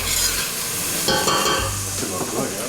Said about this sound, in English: you put your carrots and stuff in there and saute that as well